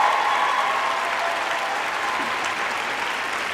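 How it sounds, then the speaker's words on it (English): Studio audience gives a warm round of applause welcoming two guests onto a show, a dense, continuous wall of clapping at steady loudness with no voices over it. "If you could give a warm round of applause to the two"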